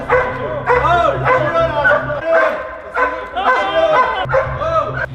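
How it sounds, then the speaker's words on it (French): A police security dog barks in a Paris metro station, loud repeated barks and yelps in quick bursts with voices around it. "le chien était là pour sécuriser l'équipe"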